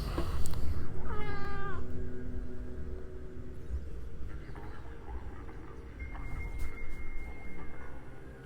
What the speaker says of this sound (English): that really is basically just how he meows